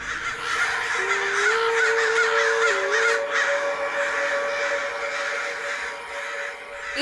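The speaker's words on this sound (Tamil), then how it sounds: "என்ன திடீர்னு இந்த பக்கமா இவ்ளோ காக்கா வருது?" Many crows caw together in a forest, a dense, loud, continuous chorus of overlapping harsh calls.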